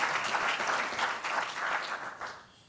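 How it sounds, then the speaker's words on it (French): A small audience applauds a youth ambassadors project committee at a presentation, steady moderate clapping that fades out toward the end, with no talk over it. "Je vous demande de les applaudir, s'il vous plaît"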